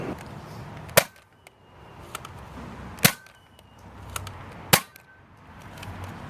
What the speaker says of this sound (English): Now we have my K26 Hot Shock firing first Nerf ammo.